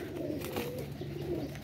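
A high flyer pigeon coos softly nearby, low throaty rolling calls repeating over a steady background hum, with no one speaking.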